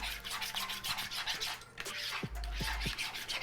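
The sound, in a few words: stirring and scraping cinnamon French toast mixture in pot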